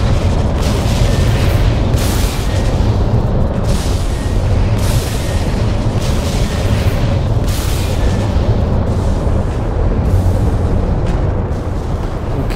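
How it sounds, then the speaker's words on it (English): Booming weapon fire from an AI capital ship in a space combat video game, a dense, continuous barrage of heavy blasts and rumbling impacts pounding loudly for the whole stretch. "AI capital ship is already shooting at me"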